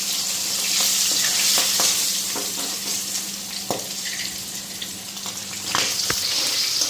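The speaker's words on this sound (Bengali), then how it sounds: "এখানে আলুটা ফ্রাই করে নিতেছি।" Potatoes frying in oil, a loud continuous sizzle up close with occasional clinks and stirring scrapes.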